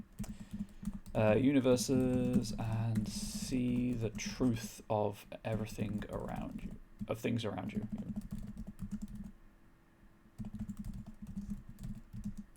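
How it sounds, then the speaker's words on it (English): Keystrokes on a computer keyboard clatter in quick irregular bursts under someone talking close to the microphone, continuing alone through pauses in his speech. "Apologies that my microphone picks up my typing sound"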